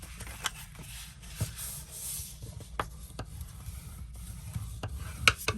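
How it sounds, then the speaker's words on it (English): Paper scores being folded and burnished by hand during a card-making craft project, heard as soft rubbing and rasping strokes with a few sharp creasing clicks, close and quiet, no talking. "We're going to fold and burnish our scores."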